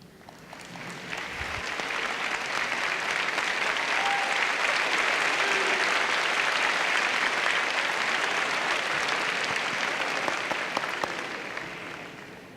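Sustained applause from supporters in the stands at a 2018 afternoon college commencement, a broad steady wash of many hands that swells in and holds for several seconds before tapering, with no talk over it.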